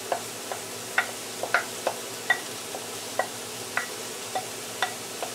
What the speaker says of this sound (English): I'm just going to throw in the celery and the onions